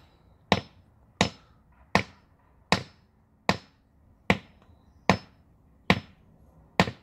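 Steel hammer and chisel striking a geode on a hard surface: eight sharp, evenly spaced blows about a second apart, loud and close, each with a short ringing decay, no voices.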